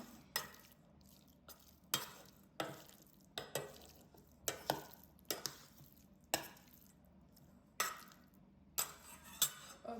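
A spoon works through chicken and cream pasta in a pan with a string of sharp clinks and scrapes against the metal, set at an uneven rhythm over a quiet, soft simmer.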